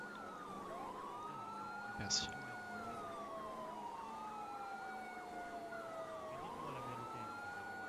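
A police car siren from the video game GTA V wails steadily in long rising and falling sweeps, layered over engine noise, with a brief spoken word partway through.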